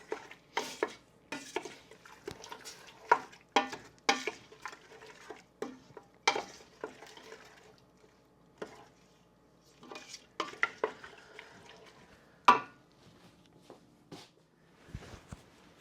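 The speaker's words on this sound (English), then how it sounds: "We're going to go ahead and get that stirred up. And then we want to bring this to a boil until we can't stir it down." Spoon repeatedly scraping and clanking against a pot of habanero apricot jelly during canning prep, a steady run of close, distinct stirring knocks with brief pauses, no talk.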